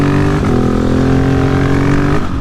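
A 2020 Husqvarna 701 motorcycle ridden on nearly slick street tires over a bumpy road: a loud, close, continuous engine drone whose pitch steps as the rider shifts and rolls the throttle.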